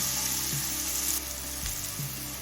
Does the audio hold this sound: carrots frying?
yes